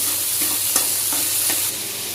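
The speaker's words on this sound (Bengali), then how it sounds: "তো এখন এখানে মশলাটা কষাচ্ছি" Spices sautéing in a pan, a dense continuous sizzle heard up close with a few light stirring taps and scrapes, loud and steady throughout.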